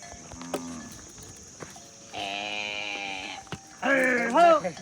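A cow that calved the same day, guarding her newborn calf in a rural Gujarat herd, lets out two drawn-out moos, the second louder and rising, with insects chirping faintly in the background.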